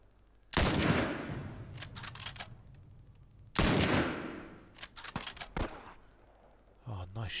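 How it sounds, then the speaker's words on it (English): Gunshots in The Last of Us video game, two sharp loud blasts several seconds apart with echoing tails, followed by smaller clicks and knocks and brief voices. "Oh, nice shot, Henry."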